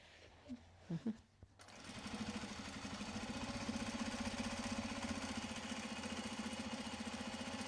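A sewing machine stitches Japanese fabric with a steady, rapid mechanical whirr that starts after a couple of soft handling knocks and runs on evenly, close and fairly quiet, with no talking.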